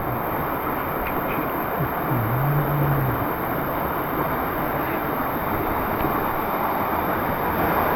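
A waterfall beside an abandoned monk's hut in the mountains, rushing as a loud, steady broadband roar that fills the scene, with a brief faint tonal sweep early on.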